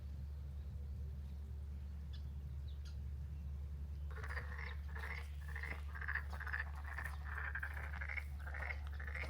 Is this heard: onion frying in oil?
no